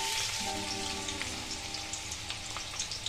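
Chopped onion fries in white oil in a wok, giving a loud, steady, close sizzle with light crackles and a faint background hum.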